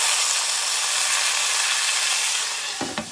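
Bones sear in a slow cooker set to its sear function, giving a loud, steady hiss that fills the clip. A few brief clicks and knocks come near the end.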